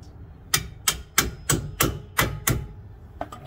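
A hammer taps on a wheel bearing bolt during front bearing replacement on a 2007 Buick Rendezvous: seven sharp metallic strikes at a steady, unhurried pace, then a few lighter quick taps at the end.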